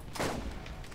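A single sharp gunshot from the video game Borderlands bursts out, followed by a short decaying echo and a steady background hum.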